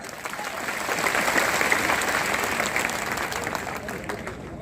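A crowd at an outdoor political rally in Mandhata bursts into dense, sustained applause, a thick wash of clapping that swells slightly and holds steady, with faint crowd voices mixed in.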